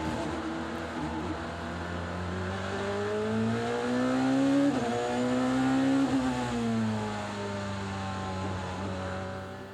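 DTM race car at speed on the Nürburgring Sprint circuit, its engine a loud, continuous high-revving drone that rises and falls with gear changes and corners, heard close from onboard.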